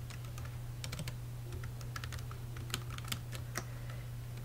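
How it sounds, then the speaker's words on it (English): Light keystrokes on a computer keyboard while entering names into a PowerPoint title slide, a scattered run of quiet clicks over a low steady hum. "I'm going to type in his name and then I would type Audrey's name and my name."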